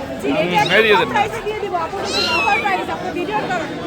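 Persian cats at a Mirpur animal market give a few rising meows that stand out over steady crowd chatter and nearby talking.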